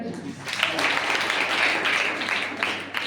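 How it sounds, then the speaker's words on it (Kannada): Audience applause at a devotional discourse by a revered swami, a dense, steady wash of many hands clapping close by for about three seconds, with a brief swell near the middle and no voices over it. "ಎಲ್ಲರೂ ಚಪ್ಪಾಳೆ ಅಂತ"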